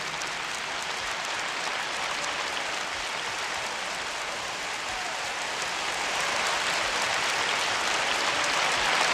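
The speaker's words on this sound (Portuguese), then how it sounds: "Pode glorificar Ele com palmas." Church congregation applauding, a dense, steady wash of clapping that holds throughout and swells slightly toward the end, with no talk over it.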